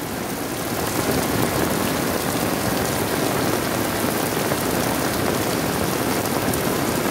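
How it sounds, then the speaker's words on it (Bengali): Cold-weather heavy rain falls on a village, a loud, full roar of drops close by, steady and continuous for the whole stretch with no voices. "প্রচুর বৃষ্টি হচ্ছে এই মুহূর্তে"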